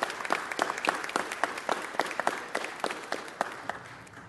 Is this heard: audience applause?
yes